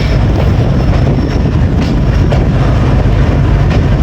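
Sandal Express passenger train running on rails on the branch line toward Jhang Sadar, a loud steady rumble of wheels and carriages rolling continuously close by.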